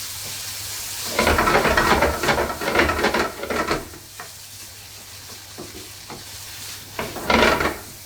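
Washed basmati rice with a pinch of salt is stirred in a hot pot. Loud close bursts of scraping and sizzling come in two stretches, with a quieter hiss between them.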